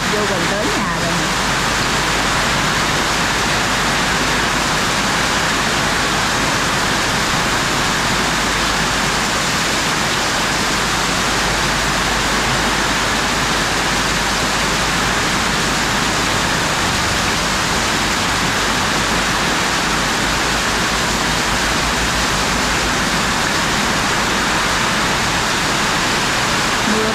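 Heavy storm rain pours steadily with wind while floodwater flows and rises near a house, a loud dense unbroken roar filling the whole stretch without pause.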